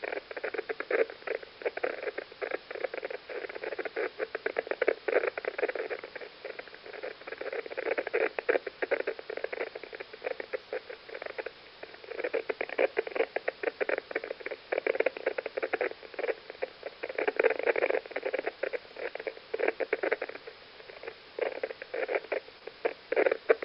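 Jupiter radio emission S bursts come through a shortwave receiver as a dense, rapid crackling patter of clicks over band-limited static, steady and continuous with no voices.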